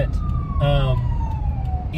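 An ambulance siren passing, its long falling wail sweeping down steadily across the clip, with a voice speaking briefly over it.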